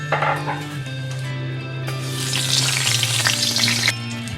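Nigella seeds hit hot mustard oil in a wok, a loud crackling sizzle that stays steady and intensifies partway through, with a low tonal hum underneath.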